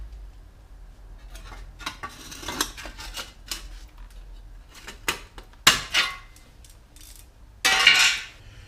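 Metallic clinks and scrapes of tools working on the 10mm bolts holding the front dust shield on a BMW E46 xi, irregular taps with two sharper louder clanks near the end.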